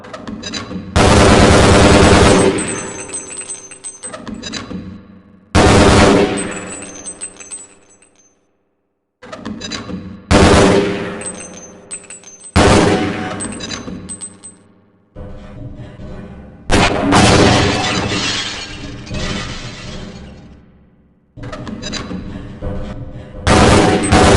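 Gunfire rings out on a video game target range in Half-Life: Blue Shift, with targets shattering. Loud bursts of rapid automatic fire are separated by brief pauses, with sharp crackling impacts and ringing debris.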